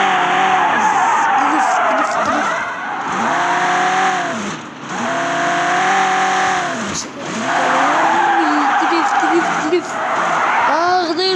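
A drifting car gives loud, sustained tire squeal with engine roar, rising and falling in long sweeping waves with brief dips between slides, close and dominant throughout.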